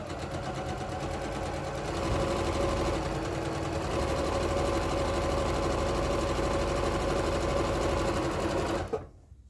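Sewing machine running steadily as fabric is stitched together, a close, loud, even mechanical whir with a slight speed-up early on, stopping abruptly at the end.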